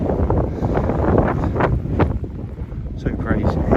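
Strong, freezing wind buffets the microphone on an exposed hilltop farm, a loud continuous roar with gusting rumbles and no break.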